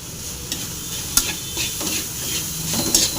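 Drumstick leaves and grated coconut stirred in a pan, a steady soft sizzle with scattered scrapes and clinks of the spoon against the metal.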